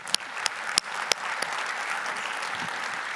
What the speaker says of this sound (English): wish that you'd applauded even louder at this point in the presentation